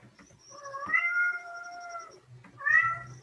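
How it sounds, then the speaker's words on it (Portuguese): A pet cat meows twice indoors, a drawn-out tonal call followed by a shorter second meow, fairly close and clear against a quiet room. "a minha gata, vocês estão escutando?"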